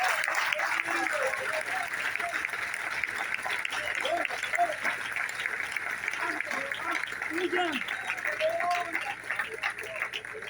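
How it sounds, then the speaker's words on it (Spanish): A church congregation claps steadily through the whole stretch, a dense, even patter of many hands, moderately loud and unbroken, with scattered voices mixed into it. "Den un fuerte aplauso al Señor"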